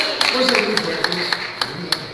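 Scattered applause from a church congregation at a baptism service. The claps are brief and fairly faint, sound in a loose irregular rhythm and thin out, with a voice speaking underneath.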